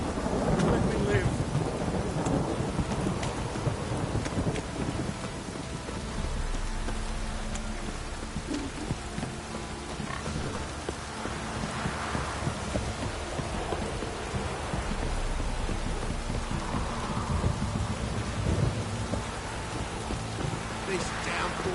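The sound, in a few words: heavy downpour with thunder in video game The Witcher 3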